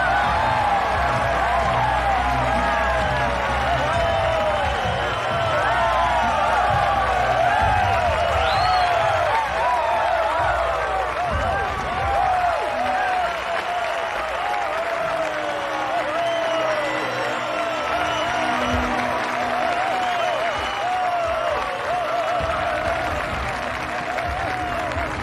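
A large crowd at a boxing world tour event claps and cheers for a champion boxer's entrance, with sustained dense applause, whoops and shouts filling the whole stretch and easing slightly toward the end.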